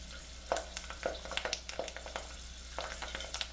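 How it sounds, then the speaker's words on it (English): A piece of celery dropped into hot oil fries with a soft, steady sizzle and scattered pops and crackles, fairly quiet and heard alone with no talking. "So I'm just gonna drop this piece of celery in there and see if it's hot enough."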